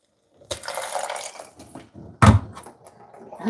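Water is added to a cooking pot of rice, starting with a splashy pour, then quieter trickling, a sharp clunk of the pot or container midway, and more light sloshing.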